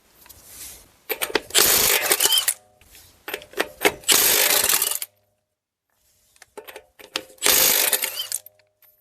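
A ratchet or power tool spins 22 mm lug nuts off a 2010-2016 Buick Lacrosse wheel in loud, close bursts of buzzing rattle, four runs separated by short silences.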